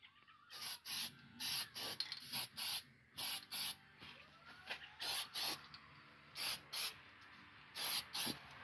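Second coat of spray paint going onto a faux gas cap for a Mustang: short, sharp aerosol hisses in quick bursts, sometimes in pairs or threes, with brief gaps, close and fairly quiet, no speech.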